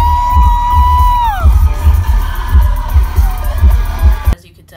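A concert crowd screams and cheers loudly, with a long high whoop gliding downward early on and rhythmic booming bass from the music underneath, before the sound cuts off abruptly near the end.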